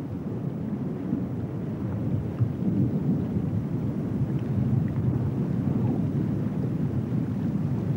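Steady heavy monsoon rain roars continuously in a tiger reserve in India, with low rumbling thunder blended into the dense downpour throughout.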